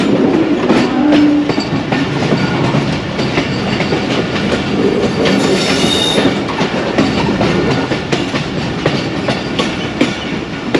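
Loud, steady rumble and rhythmic wheel clatter of the 39UP Jaffar Express running on a single-line railway track between Lahore and Rawalpindi near Mankiala station, continuous throughout with no voices.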